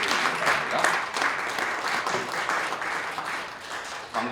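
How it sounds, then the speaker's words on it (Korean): Applause from the audience at a seminary graduate school graduation ceremony held in a church, a dense continuous patter of many hands with a few faint voices underneath. "우리 다 같이 다시 한번 박수로 축하를 해주시기 바랍니다"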